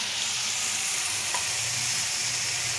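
Onion and ground chili paste fry loudly in a pan for a shutki bharta, making a dense, constant sizzle with light stirring scrapes, close and uninterrupted, with no talking.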